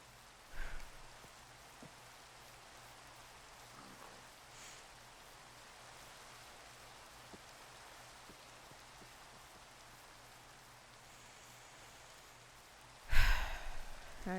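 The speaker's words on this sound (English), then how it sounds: "It's raining now." Rain falls steadily in the Minecraft video game, a faint, even hiss throughout, with a couple of brief louder noises near the start and end.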